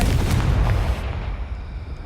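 A Confringo fire spell explodes in the video game Hogwarts Legacy: one loud, close blast with a deep low-frequency boom, then a rumbling decay and fading debris over about two seconds.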